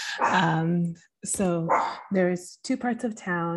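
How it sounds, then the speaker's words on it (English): A pet dog barks and yips indoors, short sharp bursts close to the microphone, mixed in with someone talking over them. "Sorry for my dog."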